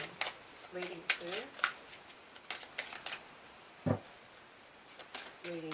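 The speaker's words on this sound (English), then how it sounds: "This deck is just slightly too big. I have a bit of trouble shuffling it" A slightly oversized tarot deck is shuffled by hand in repeated quick riffles and soft card slaps, close and fairly quiet, with a person talking in between.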